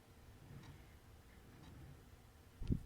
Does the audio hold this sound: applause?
no